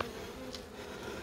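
Bees buzz at a beehive with a soft, continuous hum that stays faint and steady throughout the short moment.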